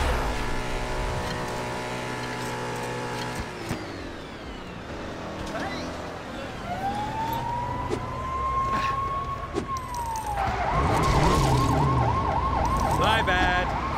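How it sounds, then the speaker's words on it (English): Police car sirens wail in the LEGO City Undercover video game, with one long rising tone followed by a fast, warbling siren that grows louder alongside engine noise. "Can the police sirens ever go off?"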